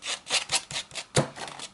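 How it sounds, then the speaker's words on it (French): Scissor blades scraping around the edges of paper card to distress them for a vintage look, a series of rhythmic rasping strokes, close and fairly quiet, with no voices. "j'ai pris un ciseau et j'ai gratté tout autour pour donner un effet un peu vintage"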